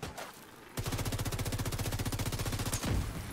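Rapid automatic gunfire in The Division 2 on hardcore mode bursts in after a short lull and hammers on in an even, fast rhythm for a few seconds, loud and close, with no voices over it.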